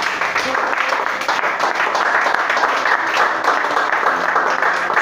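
A church congregation applauds, a dense, continuous wash of many hands clapping at steady volume with a few voices mixed in, fairly loud and enveloping.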